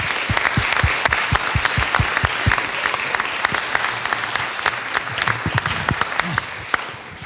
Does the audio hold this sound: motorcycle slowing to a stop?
no